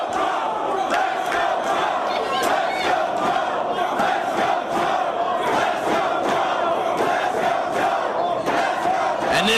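A Ring of Honor wrestling crowd at a 2004 CM Punk versus Samoa Joe match roars steadily throughout, a dense wall of cheering and shouting with rhythmic chant-like surges.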